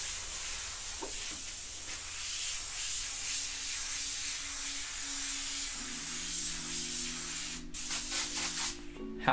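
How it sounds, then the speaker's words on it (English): An Affinity airbrush sprays paint in a steady, continuous hiss that runs nearly the whole time, joined by a faint hum and a brief louder burst near the end. "Affinity Airbrush"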